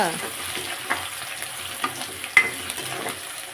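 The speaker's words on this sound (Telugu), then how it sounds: "ఆనియన్స్ గ్రీన్ చిల్లీ వెల్లుల్లి వేసాను ఒకసారి మరి కలపాలి కదా" Onions, green chilli and garlic frying with cumin in a pan for an egg fry, a steady close sizzle with scraping stirs and a few sharper clinks of the spoon against the pan.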